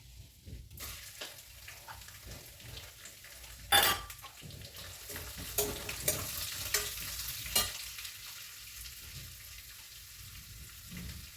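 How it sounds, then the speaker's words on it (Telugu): Onions frying in hot oil for matar paneer curry, a steady close sizzle with scraping stirs and a few sharper clatters from a utensil against the pan, no talking. "ఇప్పుడు మనం ఇందులో ఆనియన్స్ వేసుకుందాము."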